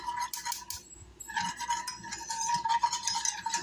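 A spoon stirs a thickening sauce with apple cider vinegar and flour in a pan, giving close, irregular scraping and clinking against the metal over a few seconds, with no talking.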